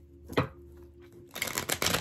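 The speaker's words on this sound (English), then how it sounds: "Give these five shuffles." A deck of tarot cards is shuffled by hand, with a brief riffle followed by a run of rapid, papery flutters and snaps, close and crisp in a quiet room.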